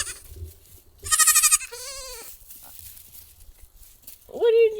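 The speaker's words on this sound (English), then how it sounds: "What are you doing, little goats?" Little goats let out a few short, wavering bleats close by, with a higher squeal near the start and another bleat at the end, mixed with low handling noise.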